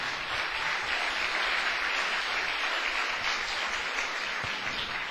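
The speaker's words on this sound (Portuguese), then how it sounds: "Uma salva de palmas só para os homens de Deus aqui nessa igreja" A church congregation claps together in steady, sustained applause that keeps an even level from start to finish without any voices rising above it.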